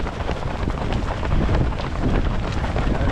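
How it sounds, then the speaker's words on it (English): Cold wind buffets the microphone outdoors at a parkrun in Krakow, a constant loud rumbling roar with gusts that swell and fade. "That wind is cold."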